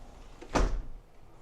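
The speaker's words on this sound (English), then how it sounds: "I'm gonna open the door." A door in a Japanese apartment-style hotel room opens with a single short, soft whoosh and scrape, fairly close, with a faint background hum and no talking.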